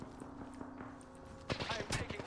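Apex Legends gunfire: a faint rapid rattle of shots under talk, then louder sharp bursts in the final second, with a voice speaking.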